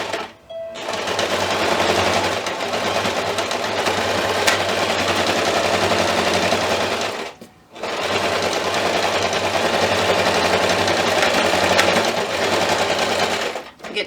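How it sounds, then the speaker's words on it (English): A sewing machine stitches a fabric first aid tote bag a quarter inch from the edge in two long, loud, steady runs of rapid mechanical whirring, split by a short pause at a corner turn. "I'm going to stitch at 1/4 of an inch all the way around this bag or tote."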